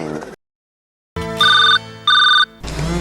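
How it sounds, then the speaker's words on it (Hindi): A mobile phone ringtone plays in two bright, repeated melodic bursts of beeping tones, loud and clear, framed by short stretches of other sound before and after in a Chhattisgarhi comedy sketch. "फोन लगा लिया जाए बोल"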